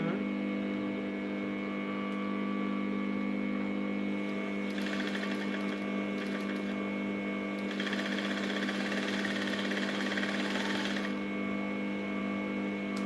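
A sewing machine stitching plain fabric for a bustier, running in two bursts of rapid whirring stitching over a steady mechanical hum, close and fairly quiet.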